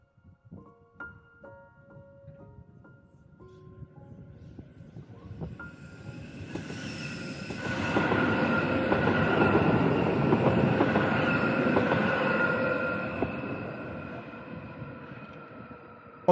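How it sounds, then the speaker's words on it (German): An SZU Be 4/4 (Be 520) train approaching and pulling into the Binz stop, beginning with faint distant rumble and ticks that swell into a loud rolling roar of wheels on rail with squealing, then slowly easing off. "Und hinten in der Ferne steht schon die BE520 und kommt uns hier gleich entgegen für die Einfahrt zur Haltestelle Binz."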